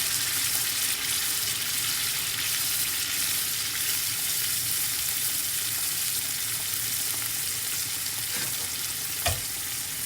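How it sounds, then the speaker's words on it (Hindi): Chicken korma sizzles loudly in a pan after yogurt goes in, a dense, even frying hiss lasting several seconds, broken by one brief clack near the end. "अब मैं इसमें दही डालूँगी 5 चम्मच"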